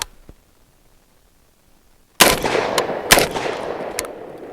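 Genesis Arms Gen 12 short-barreled 12-gauge shotgun fired at a cardboard target at defensive distance: a quiet lead-in, then a loud close blast about two seconds in, a second shot about a second later, and a faint third crack, each ringing out into a reverberant tail.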